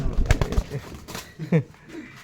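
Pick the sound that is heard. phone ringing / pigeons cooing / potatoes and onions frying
pigeons cooing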